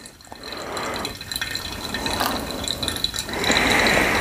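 Water is poured for pour-over coffee in a steady trickling stream that rises in pitch as the vessel fills, close and continuous for a few seconds.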